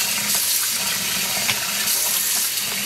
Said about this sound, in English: Let's fill up the water again.